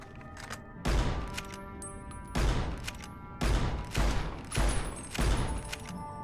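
Gunfire at a shooting range in Fallout: New Vegas: five loud, close single shots spaced about a second apart, each with a short ringing tail, following a few faint earlier clicks.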